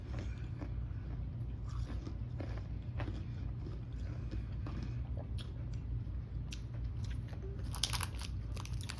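Crunching and chewing on a crispy, airy candy bar, with several close bites and rough mouth crunches while the eaters stay quiet.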